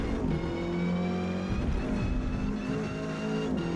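A Ford Cortina race car in Forza Motorsport, D class at Mid-Ohio, brakes hard into a hairpin. The engine note runs loud and steady throughout, with shifting harmonic tones as it slows, and no talk over it.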